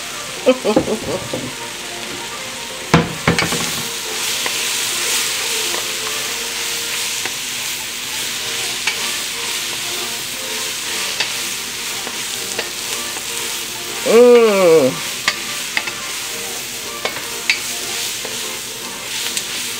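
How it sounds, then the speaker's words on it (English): Vegetables for a Creole vegetarian green bean gumbo sauté in a pot, a continuous close sizzle and crackle with occasional scraping stirs and a brief burst of clatter midway. "you want to make sure all those veggies are sauteed"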